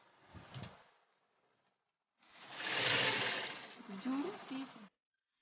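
A sewing machine stitches a Punjabi dress in a short, close burst of whirring that follows a brief quiet pause, with a voice heard before and during the run.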